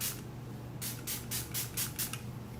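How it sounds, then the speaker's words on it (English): Makeup setting spray hisses from a pump bottle in about six quick, close bursts, steady and evenly spaced with no talk. "Now I gotta spray the other side"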